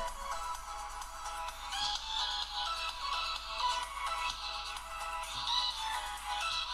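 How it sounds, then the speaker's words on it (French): Music plays through the thin, bright loudspeaker of an Alcatel Pop S7 phone. It is steady and moderately quiet, with little bass, and nobody talks over it. "Là vous entendez la musique."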